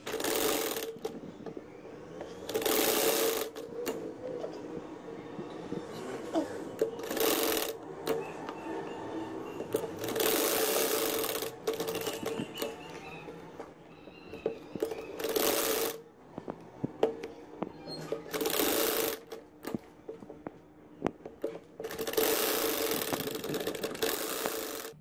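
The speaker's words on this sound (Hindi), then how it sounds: "अब हम इसको सिलाई लगाएंगे यहाँ एजेस" Sewing machine stitching the edges of a square V-neck on a shirt, pinned in place beforehand; bursts of rapid motor-driven stitching repeat in several runs, loud and close, separated by short pauses.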